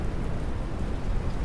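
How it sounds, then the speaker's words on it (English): Rain in the SurrounDead video game makes a steady, even hiss with a low rumble beneath it and no breaks. "Sounds like rain's coming in."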